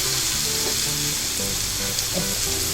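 Chopped green chilies fry in a pan for a bhindi do pyaza, giving a close, continuous sizzle and crackle with a few soft stirring scrapes.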